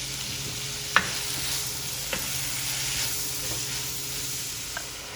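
Sliced onion sautés with a pinch of salt in a pan for Kerala chicken curry: a steady close sizzle with a few sharp spoon clicks against the pan, no voices.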